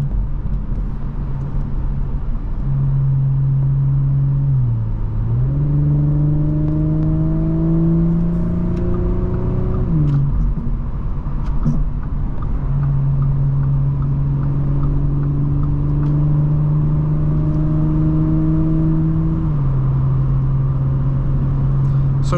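A 2022 Audi S5 3.0T Sportback cruising on a highway, its steady engine drone rising and falling in pitch as it accelerates and eases off, with a constant roar of road and wind noise throughout.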